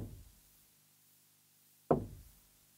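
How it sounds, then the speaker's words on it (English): A single sharp knock sounds in the indie horror game Mirror Mirror, arriving alone after a quieter opening thud and low hum, close and fairly loud with a short ringing decay. "what is that knocking sound?"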